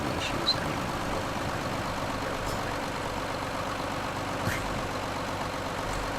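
A tractor engine in Farming Simulator 15 drones steadily at a low idle, a constant heavy hum close by with no speech over it.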